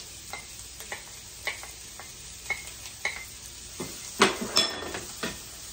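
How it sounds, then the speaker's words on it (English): Onions crackle and sizzle softly in a hot pan, with a series of light clicks and scrapes as they are stirred, a couple of louder clanks near the end. "You can get a nice sizzle going on there."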